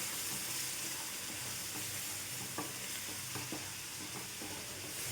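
Wheat flour and jaggery water being stirred and fried in a pan for barfi: a steady close sizzle with scraping spoon strokes against the pan, continuous throughout with no talking.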